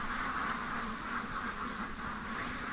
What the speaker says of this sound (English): Duck's freaking.